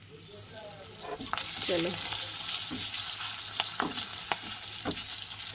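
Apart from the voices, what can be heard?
potato and greens frying in a pan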